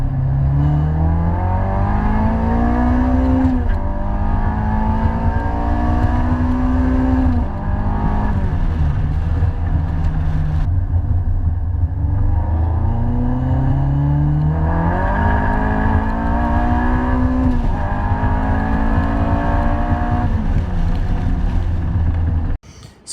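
A K-swapped Mini Cooper being tuned for nitrous drives with its engine loud and close, revving up through repeated gear pulls with rising, falling pitch for the whole stretch, no talk.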